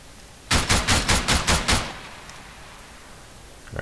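A short machine gun burst in the military shooter game Arma 3, about seven rapid loud shots in even rhythm lasting just over a second, then near silence.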